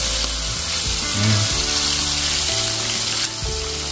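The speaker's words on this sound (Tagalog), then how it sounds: "Prito lang muna natin yan habang tayo naggagayat ng ating mga gulay." Close, continuous crackling sizzle of fish frying in hot oil, with brief tonal clinks and bubbling shifts throughout.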